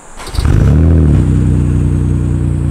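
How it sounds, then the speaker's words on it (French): A car engine cranks briefly, catches and revs up, then settles into a loud, steady idle rumble close by. "on va vous faire un petit démarrage, comme ça vous allez entendre le son de l'auto"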